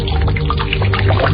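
Water pours steadily from a spout into a large bath basin in a damp bathing place, a continuous close splashing rush with no pauses.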